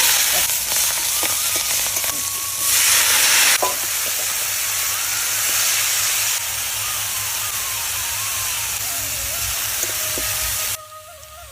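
Dried red chilies and cumin seeds hit hot oil in a pan where fish heads were just fried, giving a loud, crackling sizzle and hiss with stirring. The sizzle surges in bursts, then drops away abruptly near the end.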